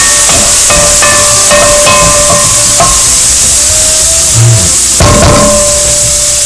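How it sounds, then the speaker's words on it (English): Fermented black soybeans and meat sauteing in a hot pan for Hokkien kiampong rice casserole, a loud, close, continuous sizzle and hiss with scattered clinks of utensils against the pan. "add that and saute once again"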